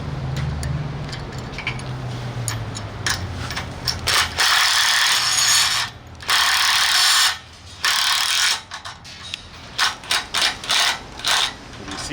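A ratchet wrench tightens a nut on a mast cable bolt, starting with a faint rapid clicking and then rising to loud, close bursts of fast ratcheting in several pulls of differing length, with no talk.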